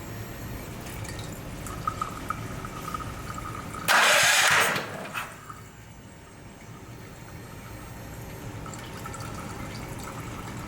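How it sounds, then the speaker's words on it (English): An EFI generator's fuel pump runs with a steady low hum and faint dripping, broken by a brief louder rushing burst, then settling back to the continuous mechanical drone. "I can hear that fuel pump pumping"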